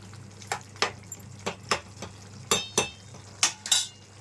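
A spoon scraping and knocking against a pot while a vegetable curry is stirred, about ten clear metallic clinks spread irregularly over a low steady hum, close but quiet.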